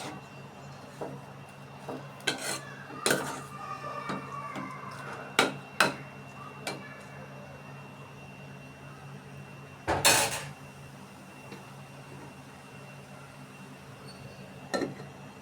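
Pumpkin greens cooked with dried shrimp being stirred in a metal pot, a scattered series of sharp spoon clanks and knocks against the pot over quiet background; no voices.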